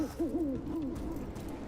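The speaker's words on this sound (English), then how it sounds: "Another owl." An owl hoots in the fantasy video game Dragon Age: The Veilguard, with several soft, wavering hoots early on that fade into a quiet ambient background.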